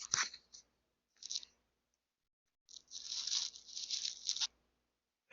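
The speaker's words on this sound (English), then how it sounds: "I will try to see if you guys can hear the clicking when I call Meta." The capture button on Ray-Ban Meta smart glasses gives a few faint, short clicks, followed by a longer burst of small clicking and rustling in an otherwise quiet room.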